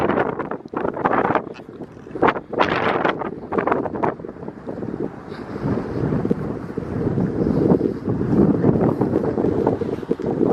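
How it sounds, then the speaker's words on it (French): Strong winter gusts buffet the microphone in a city street in Monaco, producing loud, rumbling bursts that come and go, then settle into a steady roaring rush. "Moi je vais pas filmer longtemps là, parce qu'il y a trop de vent"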